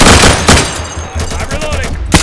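Gunfire in the shooter game Insurgency, rapid loud bursts of automatic shots in quick succession with a sharp crack near the end, over a dense battle din.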